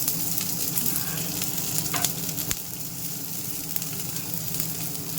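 Chopped onion and curry leaves, added with chilli flakes, fry in hot oil with a loud, steady close-up sizzle and a couple of sharp crackling pops, with no voices.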